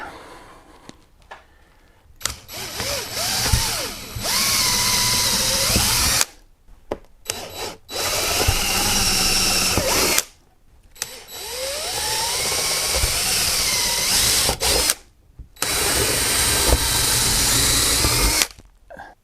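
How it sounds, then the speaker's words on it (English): A power drill whirs in repeated bursts of several seconds each, rising in pitch as it bites, with short pauses between holes. "Now we'll drill the pilot holes."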